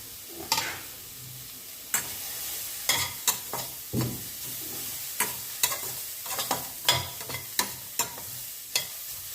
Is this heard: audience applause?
no